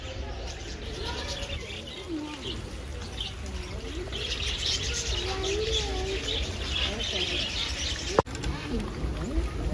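Many birds chirp, coo and tweet continuously inside a large aviary at Kothwalguda Eco Park in Hyderabad, with a brief sharp knock near the end.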